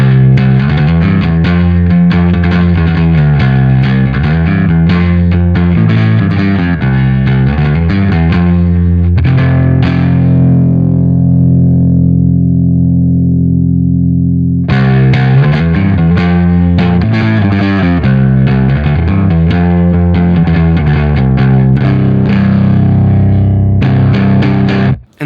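Distorted electric guitar played through a Master Effects JC Pre preamp with the bass and treble boosted and the mids cut, loud and sustained, with one ringing chord decaying in the middle before playing resumes.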